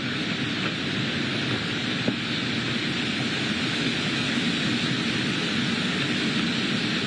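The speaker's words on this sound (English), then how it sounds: "When you have one of these gusts that comes through" A loud, sustained roar of strong hurricane wind gusts during Hurricane Idalia's landfall, broadband and unbroken, blasting steadily throughout with no voices.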